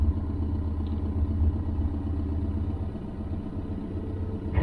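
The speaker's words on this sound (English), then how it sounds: "Do you hear the engine note change or the car even rock a bit?" A car's idling engine rumbles low and steady from inside the cabin during a driving lesson, with a slight shift in the note as the clutch reaches its biting point; no talking is heard.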